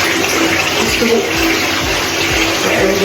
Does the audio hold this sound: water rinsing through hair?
yes